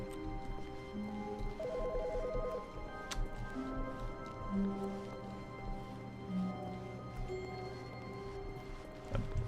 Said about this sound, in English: this ringing phone has got to be important.